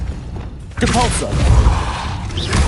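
Casting the Depulso force spell in the video game Hogwarts Legacy: a sudden heavy thump, then a loud, sustained rumbling push with mechanical clatter, and a voice briefly audible near the start.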